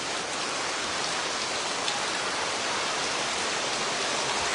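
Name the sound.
heavy rain falling during a shoot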